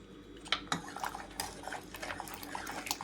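A ladle churning cooked lamb leg soup with small onions, garlic, ginger and tomato in a pot, faint clinks and knocks against the metal with soft liquid stirring, close and quiet.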